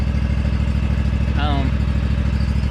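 A Scag V-Ride stand-on mower's engine idles steadily up close, a low continuous rumble with a brief higher whine partway through.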